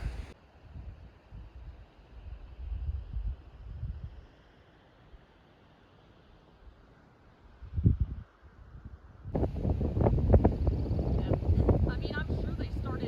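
Wind blowing outdoors on a mountain hiking trail, a steady rushing hiss with low gusts that fade to a quiet lull, then a louder, harsher buffeting of the microphone near the end.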